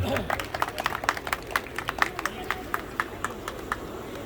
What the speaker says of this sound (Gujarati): ખૂબ તાળીઓ એમના માટે વ્યક્ત કરીએ આપણે બધા